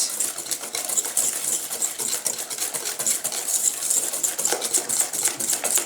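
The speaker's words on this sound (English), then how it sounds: "2 eggs. Just whisk that." Two eggs whisked briskly in a bowl for lemon squares, a steady rapid ticking and scraping that stays close and fairly loud throughout without a break.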